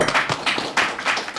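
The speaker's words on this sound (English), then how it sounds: "big round of applause for Jeff." Audience clapping at the close of a school podcast recording, a short burst of uneven hand claps in a few loose pulses, close and fairly loud.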